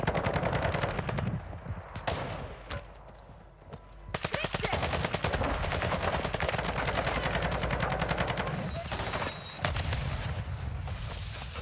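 Turret gunfire in Call of Duty Modern Warfare II DMZ: long bursts of rapid automatic fire rattle in steady streams, broken by brief pauses and single loud reports, with the firing continuing almost throughout.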